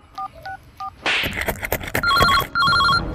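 A telephone dials with short beeping keypad tones, then after a burst of rustling noise an electronic ringtone trills in two repeated bursts, close and clear.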